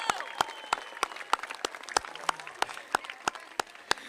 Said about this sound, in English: Would you give the loudest round of applause to our young people?